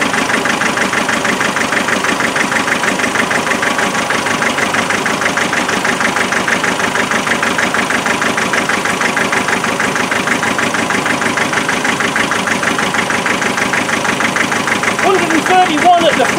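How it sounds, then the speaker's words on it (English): A 2.5-litre naturally aspirated car engine with a misfire, running loud and close with a steady, slightly uneven rhythmic pulse, held at raised revs throughout, with a brief change near the end. "Rev it up a bit and see what happens."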